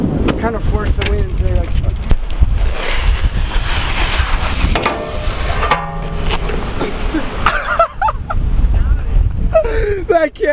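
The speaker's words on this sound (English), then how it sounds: "No, it's just the wind." Beach wind gusting hard across the microphone during rail grinding on the sand, heavy roaring buffeting throughout, with excited voices talking and calling out over it.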